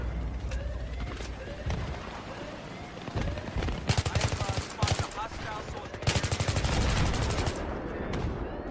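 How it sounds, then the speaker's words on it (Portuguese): Rapid bursts of automatic gunfire crackle in rattling volleys, mixed with single shots and game sound effects, loud and close throughout, in a Battlefield 3 Rush match on Noshahr Canals. "Estou a comer bué de tiros."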